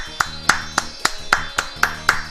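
Nine evenly spaced hand claps in a slow, steady rhythm, crisp and close, with a faint tonal background between them.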